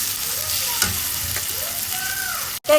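Garlic paste and dried chepa shutki fish frying in a pan, with a steady close sizzle and a few soft stirring scrapes, no talking.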